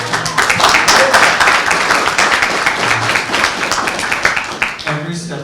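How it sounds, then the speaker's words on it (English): An audience at a men's health summit breaks into loud, continuous clapping for several seconds, a dense wash of claps with speech-like sounds mixed into the applause. "Give a round of applause"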